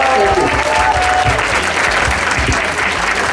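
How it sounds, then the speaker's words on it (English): An audience at a PC party campaign launch claps loudly and continuously, a dense wash of applause filling the hall from start to finish. "Please give a big round of applause to the Premier"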